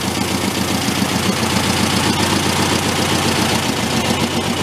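A broken Volkswagen tractor engine, just after a valve adjustment, idles steadily with a loud, close, rapid rhythmic chugging that holds even throughout without voices.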